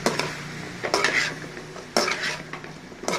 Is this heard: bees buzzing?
no